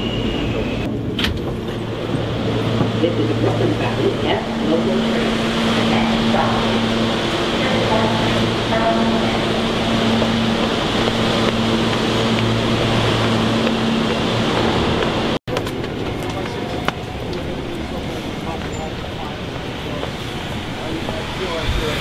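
New York subway train ride: a loud, steady rumble and rattle of the moving car fills the clip with a low droning hum, briefly cut off near the end, while people talk over it.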